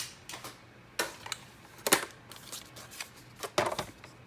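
Scissors snip across the corner of a paper pocket for a junk journal, a few sharp, close cuts in quick irregular bursts with quiet pauses between.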